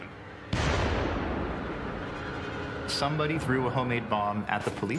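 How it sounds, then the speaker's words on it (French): A bomb explosion thrown among police at the end of a demonstration: one sudden loud blast followed by a long rumbling decay, with raised crowd voices and shouting swelling in the final seconds. "Quelqu'un a jeté une bombe. Elle a explosé au milieu des policiers et tué des agents."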